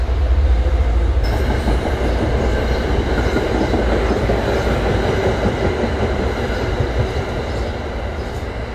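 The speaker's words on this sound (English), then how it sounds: "Train." A train rumbles past at close range, a loud continuous roar of wheels and carriages with steady rattling and clacking that holds throughout.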